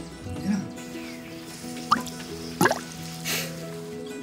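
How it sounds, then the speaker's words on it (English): Water drips and splashes in short bursts while a garden where food is grown is watered in Peru, with a few distinct close drops against a quiet background. "helping Grandad water the garden, where they grow their food"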